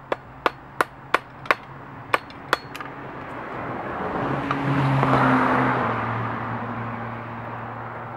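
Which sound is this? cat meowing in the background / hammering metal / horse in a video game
hammering metal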